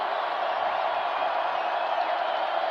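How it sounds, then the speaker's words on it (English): Dense, steady roar of a home crowd at a college football stadium during an FCS semifinal between Montana State and South Dakota, a continuous broadband wash of cheering voices held at a constant loud level throughout, with no single voice standing out. "there's nothing better than that home crowd noise"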